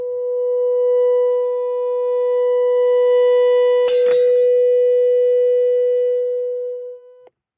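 A loud, steady pure tone rings on and on as a glass is driven to its resonant frequency, with a brief rattling clatter midway as paper jumps off the rim, the tone holding until a clean cutoff.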